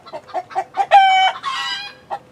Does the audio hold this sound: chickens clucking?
yes